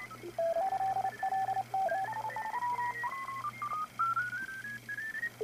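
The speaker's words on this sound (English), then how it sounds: "As you can hear now, this is SSB signal selectivity. You get a lot of signals." Shortwave SSB signals received on an ICOM IC730 transceiver: a crowded band of steady, drifting whistling tones and heterodynes stepping up and down in pitch over a low hum, continuous and fairly loud with no speech.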